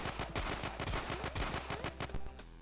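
Rapid automatic gunfire in the combat game Fighter of Evil, a loud, continuous burst of closely spaced shots that cuts off near the end.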